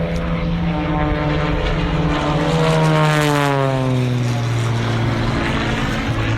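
A propeller aircraft engine at an airshow drones loudly and steadily, its pitch gliding downward as the plane passes close by.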